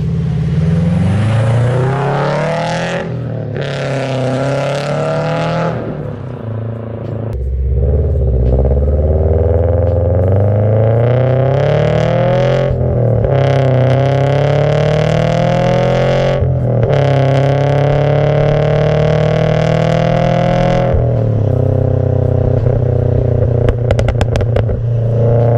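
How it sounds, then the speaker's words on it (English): A Subaru BRZ fitted with an N1 cat-back exhaust and JDL unequal-length header, recorded from the rear of the car, revs loudly, climbing and falling repeatedly with brief gaps and a raspy, crackling exhaust note. "what my BRZ sounded like with my NVIDIA N1 cat-back exhaust and my JDL unequal length header"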